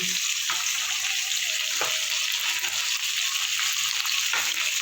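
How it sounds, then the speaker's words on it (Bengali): Bottle gourd fries in hot oil with salt and turmeric, giving a steady, close sizzle throughout with occasional faint clinks of stirring and no talk. "তার সাথে দেবো একটু হলুদ দিয়ে ভালো করে ভেজে নেবো একটু।"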